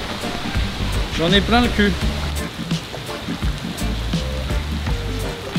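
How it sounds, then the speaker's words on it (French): Heavy rainy-season rain falls steadily, hissing and pattering on an umbrella and the street nearby, while someone speaks briefly in French over it. "Putain frère, comment il pleut."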